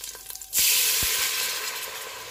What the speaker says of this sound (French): Il y a bien le sucre qui est au fond de la casserole. Je rajoute l'eau.